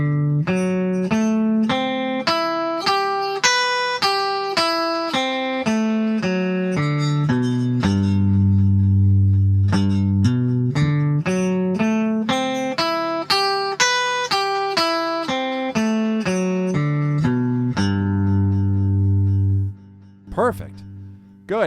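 A guitar plays a steady scale exercise, single plucked notes climbing up then descending back down in an even rhythm, clear and close, ending with a brief knock.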